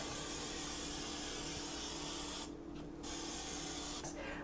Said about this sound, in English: I'm going to take the misto, give it a few pumps with my yummy olive oil in there